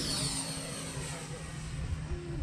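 Freewing Mirage RC jet plane in hi-alpha flight, a steady droning engine whine holding loud and continuous throughout with a low rumble underneath.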